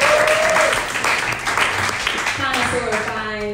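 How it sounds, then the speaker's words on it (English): An audience applauds at a panel discussion on intersectional feminism, with loud, dense clapping under a voice and some higher tonal sounds fading out toward the end. "Can we give a clap for"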